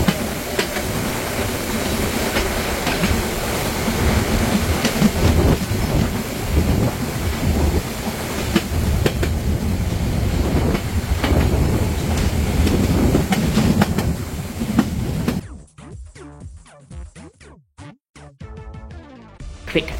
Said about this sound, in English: enjoy the next few moments of the train working hard as it goes up the incline into Eimsbüttel